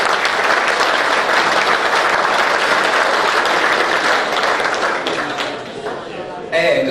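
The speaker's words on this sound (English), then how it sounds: "I get another round of applause, please, for Rescue Dave." An after-dinner audience at an aviation event gives a sustained round of loud, dense clapping that fades slightly near the end.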